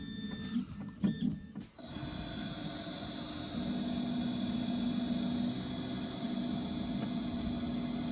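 A few sharp clatters, then a steady mechanical whine and grinding hum from a key cutting machine cutting a key, continuous and fairly close.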